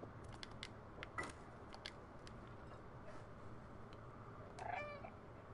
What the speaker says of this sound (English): when I meow, it affects the sign